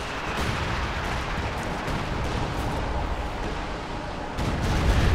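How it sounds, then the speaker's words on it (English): 10.5 cm artillery fire in Company of Heroes 2 during a battle between US and Soviet forces and the German Wehrmacht and OKW, heard as a continuous rumbling barrage of booms and blasts that swells louder near the end. "So these guys are going all out artillery on us,"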